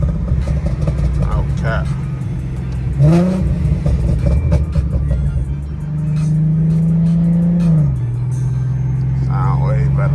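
An Infiniti G37 engine revs through its exhaust, rising and settling in a couple of throaty swells up close, with a steady idle hum between them and a person speaking briefly over it.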